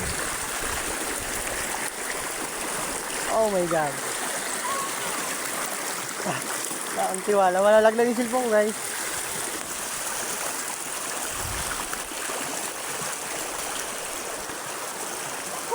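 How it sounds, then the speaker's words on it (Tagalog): Strong rushing water roars steadily throughout, close and loud, while people talk and exclaim over it. "Lakas ng tubig."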